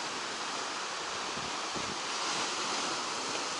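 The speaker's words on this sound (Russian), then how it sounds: "Сюда накатывают волны." Ocean waves wash onto a shallow, rocky shore with mussel colonies at low tide. The surf makes a steady, close roar of broadband rushing water with light wind buffeting the microphone, and no voices are heard.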